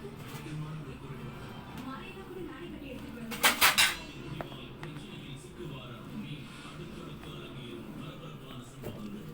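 Custard flour is stirred into butter and margarine in a bowl for eggless biscuits, with a brief burst of spoon clinking and scraping midway and faint utensil knocks and quiet voices around it.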